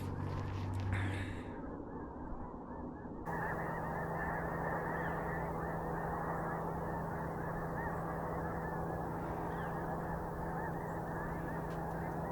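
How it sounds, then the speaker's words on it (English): A flock of waterfowl honks as it takes off for a morning flight. The chorus of repeated honks is faint and distant and continues throughout. "A bunch of waterfowl out there taking off for their morning flight."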